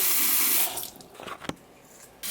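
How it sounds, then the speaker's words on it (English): Tap water runs from a bathroom faucet to wet a toothbrush, a steady close stream that cuts off, followed by a few brief splashes and clicks at the sink. "Am I the only weirdo that wets my toothbrush before and after putting the toothpaste on?"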